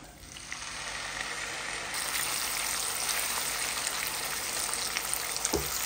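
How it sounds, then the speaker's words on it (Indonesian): Chopped shallots and ground candlenut sautéing in oil for bakso broth make a loud, continuous, dense sizzle that grows a little fuller midway and ends with a brief knock, with no voices. "Kita tumis sampai wangi."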